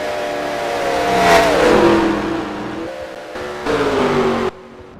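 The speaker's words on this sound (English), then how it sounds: "So many cars are headed to the pits" Race cars in a Los Angeles sprint cup finale head toward the pits, with engines revving high and then sliding down in pitch. Two close, loud passes are separated by a brief dip.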